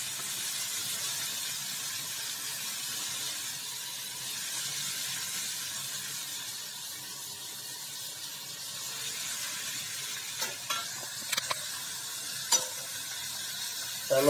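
Strips of cabbage, potato, tomato and chilli frying in hot oil for a Gujarati shaak, a steady loud sizzle and hiss throughout, with a few light utensil clinks near the end.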